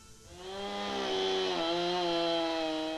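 A chainsaw cuts into a log to rough out the shape of a wooden bowl, its engine revving up and then holding a loud, steady high whine through the cut.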